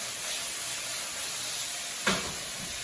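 Potatoes frying in a hot pan give a steady, faint sizzle and hiss, with one short louder crackle near the end.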